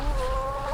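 A single hen clucks briefly in a soft, drawn-out tone, close by and alone.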